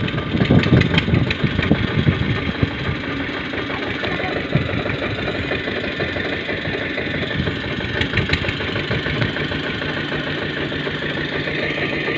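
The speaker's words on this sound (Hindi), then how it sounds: "भाई, दोनों ट्रैक्टर की शुरुआत हो चुकी है भाई।" Two Eicher tractor engines idle close by on a rainy day beside waterlogged farm fields, giving a loud, steady, rough chugging drone that holds evenly throughout with no talking.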